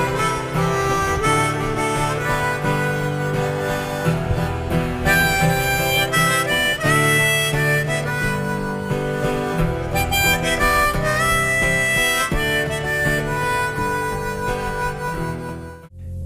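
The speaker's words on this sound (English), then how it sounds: "the song is played on G harmonica in first position" A G harmonica played in first position carries a riff over a full rock band mix with drums and guitars, loud and continuous throughout with no talking.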